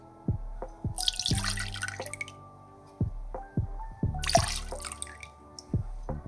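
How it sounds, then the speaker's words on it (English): Fat-washed Negroni poured into a mixing glass, with two bursts of splashing liquid among a scattering of drips and light clinks, close and clear with no talking. "in a mixing glass we're gonna pour 90 ml or 3 ounces of our fat-washed Negroni"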